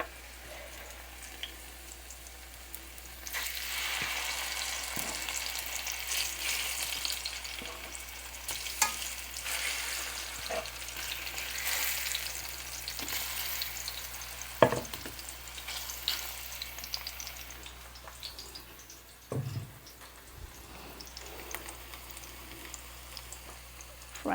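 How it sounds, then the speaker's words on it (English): Sliced plantain frying in a pan, a steady close sizzle with occasional spatula taps and scrapes over a low background hum. "Fry the plantain them."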